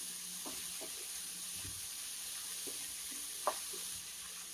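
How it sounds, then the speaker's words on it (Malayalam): Breadfruit stirred in a hot pan, a quiet steady sizzle with a few soft scraping strokes and one brief clink, close by and without voices. "നല്ലതായിട്ട് ഒന്ന് ഇളക്കി"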